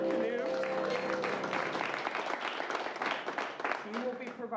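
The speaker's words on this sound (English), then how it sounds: "Everybody give a round of applause for Canute." An audience at a live improv comedy show claps and cheers in a dense burst of applause that fades toward the end.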